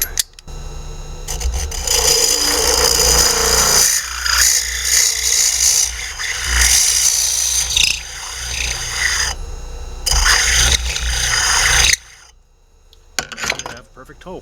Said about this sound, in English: Now the larger drill bit.